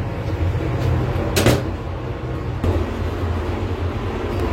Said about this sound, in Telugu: ఫస్ట్ అయితే డోర్ అయితే లాక్ చేసేద్దాం